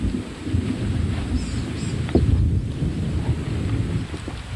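Outdoors during a thunderstorm with light sprinkling rain, a continuous rumble of thunder and wind rolls on, loud and close, with gusts buffeting the microphone.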